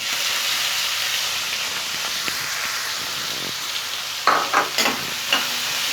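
Two finely chopped large onions sautéing in a hot pan for a dhaba-style side dish, a steady close sizzle and hiss with a few louder stirring scrapes toward the end.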